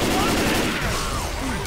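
Rapid gunfire in the Left 4 Dead 2 versus match on the Swamp Fever campaign, dense overlapping shots throughout a short loud burst.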